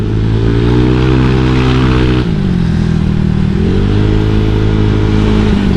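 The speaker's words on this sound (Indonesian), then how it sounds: "padahal dari tadi udah gua geber-geber anjir" A motorcycle fitted with a new 63-spec engine revs loud and close, holding steady then dropping and climbing again in continuous throttle blips.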